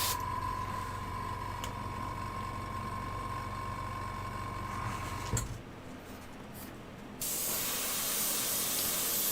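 Water-based acrylic primer sprayed from a spray can: a long steady hiss close by, a short pause, then another burst of spraying, with no talking.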